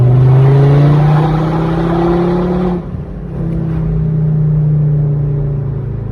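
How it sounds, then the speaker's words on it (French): A Volvo V50 R-Design turbo diesel with a stage 1+ tune and a full Akrapovic exhaust accelerates hard on a mountain road, its loud droning engine note climbing, dipping briefly at a gear change, then pulling up again. "Donc on va essayer d'accélérer un peu."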